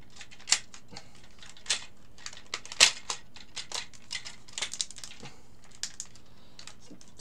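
Small plastic parts of a Hello Carbot transforming robot toy click and snap as they are folded and pegged into place, a close series of sharp, irregular taps and ticks with quiet pauses between them.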